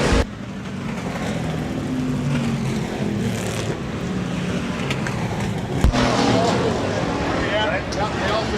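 Sportsman race cars roar around the dirt oval at Rapid Speedway, a continuous loud engine drone with passing surges, while an announcer talks over the noise.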